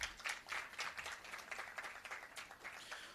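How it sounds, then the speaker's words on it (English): Audience applause at a youth dialogue event on the Summit of the Future, steady dense clapping filling the room for a few seconds with no voices over it. "One last round of applause."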